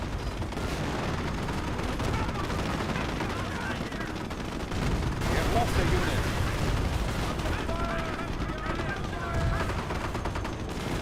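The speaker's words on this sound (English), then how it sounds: "Recovered Sherman tank now firing away against the Panzer IV." Tank cannon fire and battlefield gunfire from the World War II strategy game Company of Heroes, a Sherman tank engaging a Panzer IV, forming a dense continuous barrage of shots and impacts under steady commentary.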